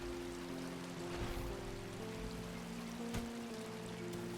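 In the video game ULTRAKILL, a waterfall rushes steadily as a soft, even wash of falling water, with faint low hums running beneath it and no speech.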